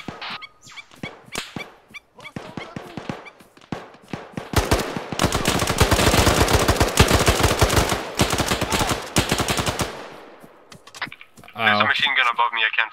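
Automatic machine-gun bursts ring out in an Arma 3 firefight, dense rapid volleys that dominate the middle of the stretch, framed by scattered single shots and a voice over radio-like chatter near the end.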